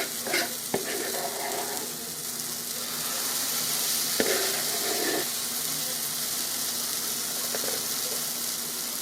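Cornbread fries in a hot pan with a steady, close sizzle that runs throughout, broken by a few sharp clinks and spatters from the pan and utensils.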